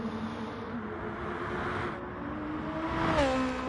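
Small RC Beetle race car on an indoor raceway circuit whining past the start-finish line, the motor pitch rising and then sweeping downward as it passes close by near the end, with faint engine drone before it.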